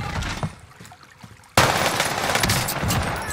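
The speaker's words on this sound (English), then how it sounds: "Here's your first look at the new Arma Guerra SMG in Warzone" An Arma Guerra SMG firing in Call of Duty Warzone: after quieter shuffling, a sudden loud, sustained stream of rapid automatic fire kicks in and rattles on without pause.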